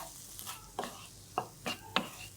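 Fresh turmeric being sautéed in ghee for a winter vegetable dish, with a few quiet, irregular stirring scrapes and soft sizzling in the pan, close by and faint.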